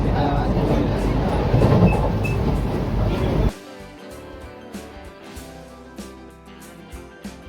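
Vande Bharat Express departing Khurda Road Junction: a loud, dense rumble of the moving train for several seconds cuts off sharply into a quieter interior with faint clicks and soft background noise.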